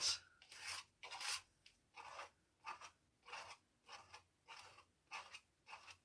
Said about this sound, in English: I'm using what's on the knife to scrape whatever I'm scraping off and scraping back on again, just spreading that around